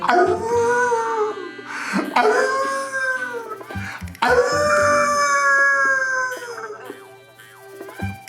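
A dog howls in long, wavering drawn-out cries, loud and close, with a few short breaks between howls.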